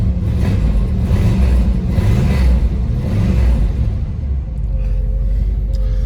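A Plymouth Barracuda's big-block V8 idles with a deep, loud, steady rumble and pulsing low throb, close by and continuous throughout, with a slight dip near the end.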